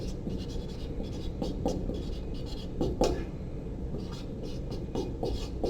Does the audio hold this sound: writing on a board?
yes